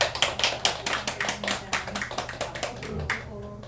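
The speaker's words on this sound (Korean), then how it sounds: "보살님께 박수 한번 쳐주세요" Hands clap in irregular bursts from a small gathering honoring a Buddhist laywoman at a temple's Baekjung prayer service, close and brisk for a few seconds, with a voice faintly underneath.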